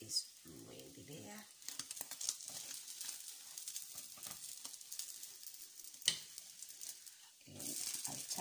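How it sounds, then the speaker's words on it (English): French toast fries in a pan with a quiet, crackling sizzle, faint and close, broken by small pops and a soft clink, with a brief voice near the start. "I'll turn it and cook it until it's brown."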